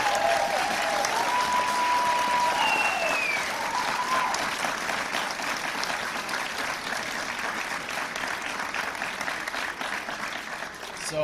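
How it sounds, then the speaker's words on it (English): A crowd gathered to hear political candidate Joe Dorman gives his campaign crew a round of applause, with sustained, dense clapping that swells at first and then eases into a steady, slightly softer ovation with a few cheers. "You need to give them a round of applause"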